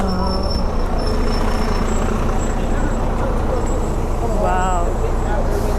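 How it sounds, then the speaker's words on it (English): A bus pulls in at a busy roadside stop outside Warner Bros. Studio in London, its heavy engine rumbling steadily over traffic noise, with a brief air-brake-like hiss near the end and distant crowd chatter. "This is our bus, it's coming."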